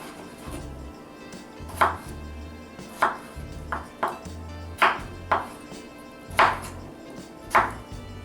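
A knife chops potatoes into cubes on a cutting board, roughly a dozen crisp, separate strikes with short pauses, close by and with no talking.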